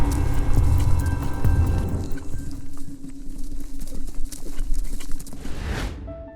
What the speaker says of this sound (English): With that, Henry jumped onto the horse and galloped off on his way to Rhonda.